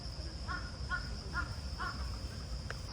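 A crow caws four times at an even pace along a quiet forest path in Seoul, the calls fairly faint and distant over a low steady background hum.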